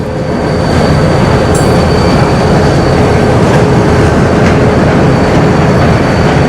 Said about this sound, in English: That's a little short train there.